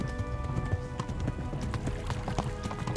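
A horse gallops in the medieval video game Kingdom Come: Deliverance, with rapid, rhythmic hoofbeats drumming steadily over a dense, rumbling game soundscape.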